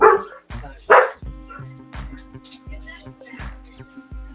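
Several dogs bark indoors, loud and close, in a burst of sharp barks followed by a steady run of roughly eight evenly spaced barks.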